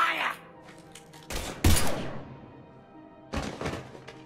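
Gunfire in Mass Effect 3 on the Citadel: a few loud, heavy shot bursts ring out with short decaying tails, separated by quieter moments where game characters speak.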